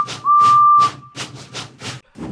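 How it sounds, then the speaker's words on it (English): An animated steam locomotive gives a single steady whistle blast lasting over half a second. It is set against a rhythmic puffing chuff that repeats roughly every quarter second, close and clear. "And he blew his whistle."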